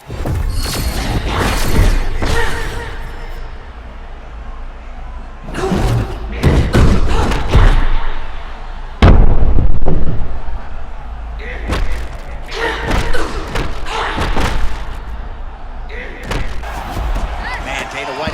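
Strikes land in an EA Sports UFC 6 women's fight, with repeated heavy thumps and slams in irregular bursts. The punches come loud and close, and commentary runs underneath.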